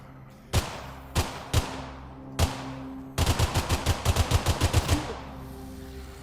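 AK rifle gunfire in the game Drive Beyond Horizons: a few sharp single shots spaced apart, then a rapid burst of about a dozen loud cracks in quick succession, close and alone.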